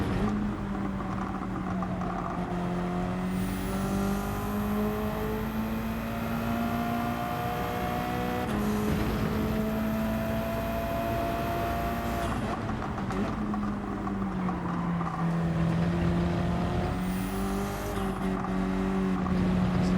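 Race cars lapping a wet track in a Gran Turismo 7 online race, a continuous loud engine whine rising and falling through gear changes, with high tire and spray hiss and no talk.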